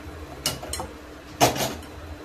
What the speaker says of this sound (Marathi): कढाई तापायला ठेवते